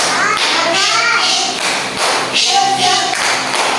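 Children in a classroom chant loudly together, marking the rhythm with sharp group claps and taps at a fast, steady pace.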